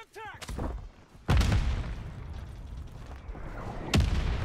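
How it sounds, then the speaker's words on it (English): Mortar strike explosions in a video game: three heavy booms, one at the start and two more a few seconds apart, with rumbling gunfire and battle noise filling the gaps. "Oh wait, this has a charge up time. Mortar strike."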